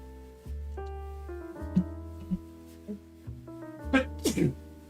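A person sneezes a few times in quick short bursts, close and fairly loud, against sustained musical tones in the background.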